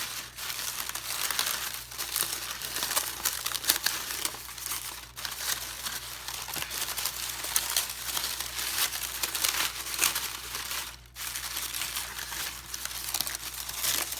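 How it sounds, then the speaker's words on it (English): Paper crinkled and pulled apart by hand while shaping a large paper flower's petals, a steady close run of soft rustling and crackling with a few brief pauses, no voices. "So just start to really pull it apart and bring it to life. You can crinkle it in some areas."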